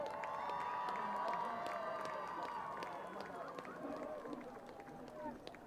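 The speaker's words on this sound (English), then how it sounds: "Can we give a big hand for all of them?" A crowd at a high school Senior Night claps and cheers for the seniors and the band, a steady wash of applause with scattered shouts and voices mixed in throughout.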